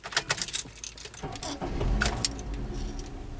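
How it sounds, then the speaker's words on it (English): Keys jangle in the ignition of a 2012 Honda Civic, followed by the engine cranking and catching into a steady idle, close and clear with no talking. "let's start up and take it for a drive"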